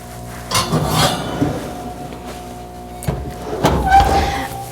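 A heavy cast iron kettle lid lifted from a hot steamer pulled out of an oven, with clanking metal knocks near 0.6 s and 3.1–4 s over a low steady hum.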